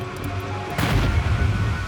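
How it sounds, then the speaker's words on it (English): A frozen river bursting apart on a freezing spring day gives a sudden heavy boom that swells into a long, loud, rumbling roar, with no voices. "a frozen river explodes. The scale of this explosion is massive."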